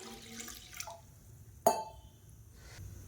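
Water splashes and pours briefly into a pan, then a sharp metallic clink rings out and fades in an otherwise quiet room.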